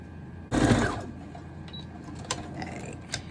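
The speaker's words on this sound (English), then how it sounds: "I'm just going to sew around the edges again and leave this part open." A sewing machine stitches around the edges of fabric for costume Flareon ears, a short close burst of mechanical running that starts abruptly and stops within half a second, followed by quieter handling clicks and taps.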